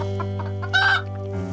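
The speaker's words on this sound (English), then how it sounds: "That's our neighbor, a rooster." A rooster on a farm lets out a short, bright crow with clucking around it. The call is fairly close and sits over a steady background hum, with no one talking.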